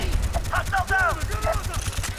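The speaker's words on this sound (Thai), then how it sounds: "ปืนกด MG ยิงกดเราแน่นอน" Rapid bursts of machine gun fire in Call of Duty Black Ops, sharp repeated shots packed closely together, mixed with a voice talking over the gunfire.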